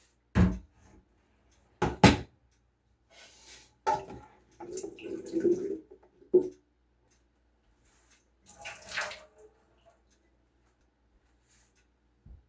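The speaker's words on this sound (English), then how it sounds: "I'm just dumping off the water." Water dumped off seven pint jars of raw potatoes being packed for canning: several short splashing pours and drips, separated by pauses, fairly close and clear, with no talking.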